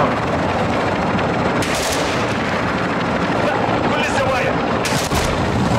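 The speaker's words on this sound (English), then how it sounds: "Please stop shooting at me!" Sustained gunfire in the video game Warzone 2 DMZ aimed at the player, loud and dense throughout with sharp bursts standing out, while a voice talks over it.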